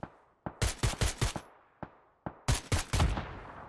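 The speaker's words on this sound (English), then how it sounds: "I think someone's trying to shoot him in the butt." Bursts of automatic gunfire ring out in PUBG on console, two rapid volleys of sharp, loud shots separated by single cracks, with no talking.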